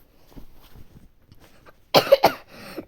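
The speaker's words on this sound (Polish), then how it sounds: "Przepraszam za kaszel." A sharp cough bursts out twice near the end, loud and close, after a stretch of quiet faint rustling.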